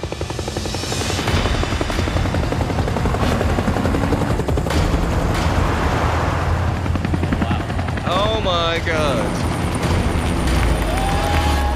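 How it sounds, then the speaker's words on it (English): Loud, continuous thumping roar of two helicopters drawing near over sand, kicking up a sandstorm, with heavy wind rush and a person briefly exclaiming over the noise. "come two bloody helicopters and two trucks just driving and flying towards us, creating a massive sandstorm"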